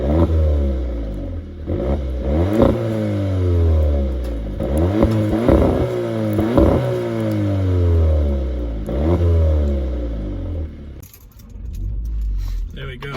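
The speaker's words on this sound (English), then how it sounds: "This is a pretty standard, like, Polo noise, but I'll still demonstrate it anyway." A 2016 Volkswagen Polo GTI (6C) engine revs up and falls back several times in a row, loud and close, with rising and falling whine and a burbling exhaust.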